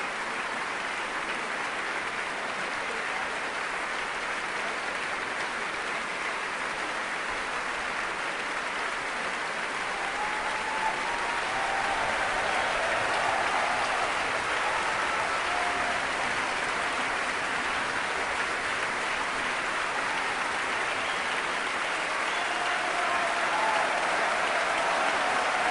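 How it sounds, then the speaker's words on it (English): A concert audience in the Royal Albert Hall gives long, dense, triumphant applause at the end of a Proms performance of Handel's Samson, a steady roar of clapping that swells slightly in the second half. "taking bows to triumphant applause here in the Royal Albert Hall"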